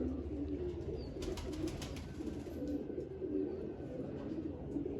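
Soft, repeated pigeon coos sound in a low, rolling rhythm against quiet outdoor background noise.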